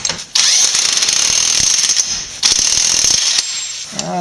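Ratchet tightening a bolt on a Subaru Forester front CV axle, heard as a loud, steady run of rapid clicking in two long bursts separated by a short pause, with no talking.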